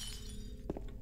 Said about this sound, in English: We heard a glass break.